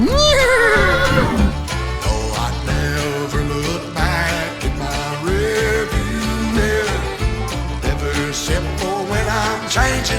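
A horse in Almaty, Kazakhstan, neighing loudly and repeatedly close by, with high wavering whinnies rising and falling over a steady background and no talk.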